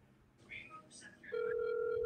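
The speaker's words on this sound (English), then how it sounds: "I'm calling him right now." A telephone call being placed, with faint tones and a brief voice, followed by a steady electronic ringback tone that holds until the end.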